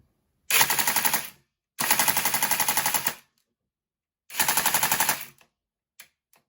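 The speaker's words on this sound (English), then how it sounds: "So first of all we cock it and we take our first shots if we turn the safety off." A Tokyo Marui MK46 airsoft light machine gun fires three rapid bursts, each a loud, even mechanical rattle lasting about a second, separated by pauses, followed by a few faint clicks.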